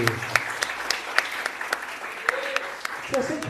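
Rhythmic clapping in praise of the Lord from a church congregation at a prophetic night service, a steady run of crisp claps under ongoing vocal sound, with a voice rising near the end.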